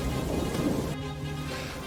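Steady rain pours down while a deep roll of thunder rumbles through the storm, with no voices and a constant, fairly loud wash of sound from start to finish.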